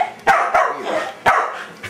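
A dog in a wrestling video game barks sharply three or four times, close and loud, with short gaps between barks.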